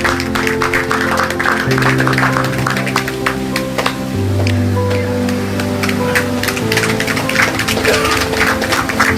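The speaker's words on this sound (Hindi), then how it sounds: "जोरदार तालियों के साथ सम्मान किया जाए।" Loud, steady applause from an audience honoring guests at a community organization's function, a dense continuous patter of many hands with a sustained tone or music beneath it throughout.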